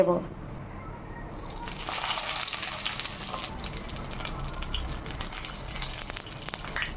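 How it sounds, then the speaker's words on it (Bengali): Steady, loud sizzling as prawn paturi parcels go into hot mustard oil in a wok, a brief clatter at the start giving way to continuous crackling frying that stays level throughout. "কড়াতে তেলটা গরম হয়ে গেছে এখন আমি পাত্রিগুলো দিয়ে"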